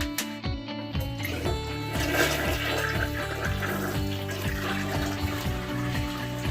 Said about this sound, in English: We got Flushy Flush.